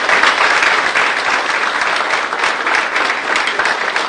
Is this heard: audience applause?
yes